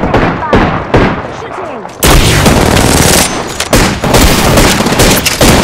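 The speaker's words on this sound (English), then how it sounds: "Taking fire, friends." Loud Apex Legends gunfire erupts in sharp bursts. A heavy barrage starts about two seconds in and keeps going, with brief pauses, under a short spoken remark.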